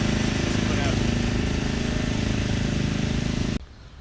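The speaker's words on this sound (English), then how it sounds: "Lots of mowing going on around here." A lawn mower running nearby in a residential neighborhood, a steady droning engine hum at moderate level that cuts off abruptly near the end.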